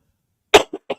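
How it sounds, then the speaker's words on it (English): One sharp cough lands right into a microphone, followed by two shorter coughs, close and loud against near silence. "cough into the mic"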